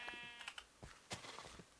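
Sheep bleating in the video game Minecraft, several short blocky bleats scattered across the moment, fairly close and clear with no talk over them.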